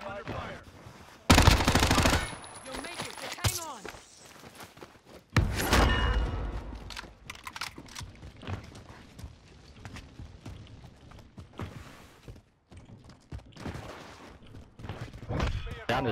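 Loud, close bursts of LC10 submachine gun fire in the Cold War era of Warzone: a sharp rapid volley early on, a second shorter burst a few seconds later, then quieter footsteps, distant shots and game ambience.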